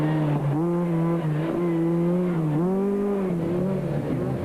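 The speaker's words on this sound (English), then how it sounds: "the sight and sound of a full-blown rally car driven by masters of their craft" A rally car engine roars close by at the 1998 Rally of South Africa, its pitch rising and dipping as it shifts and corners, loud and continuous.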